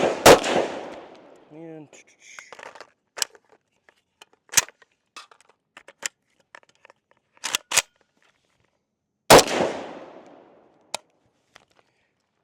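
Zastava M92 rifle firing reloaded rounds outdoors in Kentucky: two loud, sharp gunshots roughly nine seconds apart, with mechanical clicks and handling rattles between them and a brief voice near the start.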